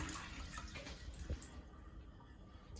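Water trickles and drips into a toilet cistern as it refills after a dual-flush, a quiet, close, uneven splashing with a few small clinks.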